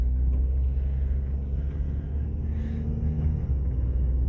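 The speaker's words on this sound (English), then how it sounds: "So I'm just taking it for a quick spin here just to see how the transmission and everything goes." A car running on a junkyard replacement engine drives along with a steady, deep engine rumble and road noise, unbroken and even throughout, with no voices.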